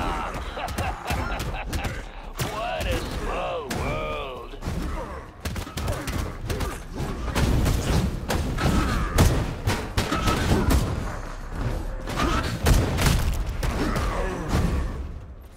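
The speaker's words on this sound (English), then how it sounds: "Who's shooting at me?" Repeated close gunfire in the arena shooter Kiborg Arena, with rapid bursts and single shots mixed with thuds and electronic weapon sounds throughout a busy fight.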